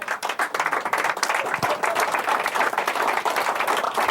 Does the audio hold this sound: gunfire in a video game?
no